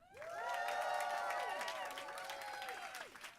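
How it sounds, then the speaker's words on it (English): A studio audience at a talk show cheers and applauds for a celebrity guest, with loud whoops and a continuous roar of clapping that builds quickly and then slowly fades. "please will you give me your greatest cheer and applause"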